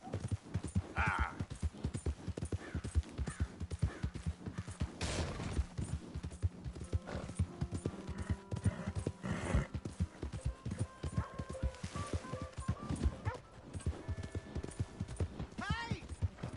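Horse hooves clip-clop steadily on the ground in the Western game Red Dead Redemption, a busy rhythmic trot running throughout under voices and shouting, with bursts of gunfire mixed in.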